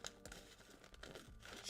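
Scissors snip through paper card while a simple handmade Mother's Day card is trimmed, giving a few crisp, close cutting and crinkling sounds in quick succession.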